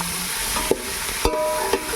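Ginger garlic paste sizzles in a pan of chicken biryani over a wood-fired stove, a steady close hiss broken by three sharp scrapes or stirs spaced about half a second apart.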